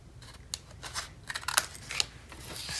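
Scissors snip through paper while corners are trimmed for a handmade mini album, a series of close, crisp cuts at an uneven rhythm with quiet pauses between them.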